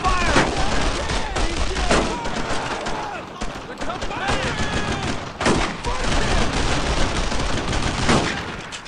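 Sustained battlefield gunfire in the World War II shooter Brothers in Arms: Road to Hill 30, with rifle and machine-gun bursts rattling steadily throughout and soldiers shouting over the din.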